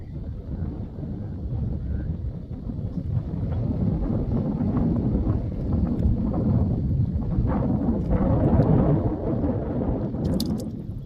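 Steady rumbling wind buffeting the microphone for the whole stretch, a constant low roar with faint crackles near the end.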